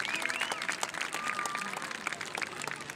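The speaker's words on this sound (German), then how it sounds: "Applaus für das Team vom Strandbad Tenneringsee" Audience applause at an outdoor acoustic lounge concert by a lakeside beach bath, steady dense clapping with a few whoops and whistles running throughout.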